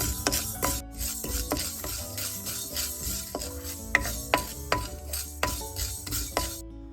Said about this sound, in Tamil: இப்போ வெந்தயம் நல்லா வறுவட்டு பொன்னிறமாக வந்துட்டுது